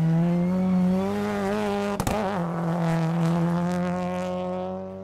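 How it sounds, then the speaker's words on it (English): A Subaru WRX STI rally car at full racing pace, its engine a loud sustained howl with shifting pitch and a sharp gearshift or bump break midway, heard close and alone. "Molly Taylor is armed with a new Subaru WRX STI this year."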